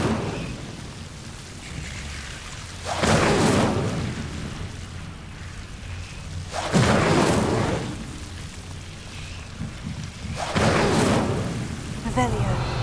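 Three whooshing fire blasts from the Incendio spell in Hogwarts Legacy roar up at even intervals over a low game ambience, each a loud rushing burst lasting about a second.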